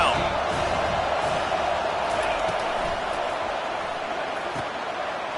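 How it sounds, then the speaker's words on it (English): Stadium crowd in a College Football 25 game roars steadily behind the defense on third down, a dense continuous wash of cheering that holds loud throughout with faint thumps underneath. "Decibels rising as the crowd gets behind this defense on 3rd down."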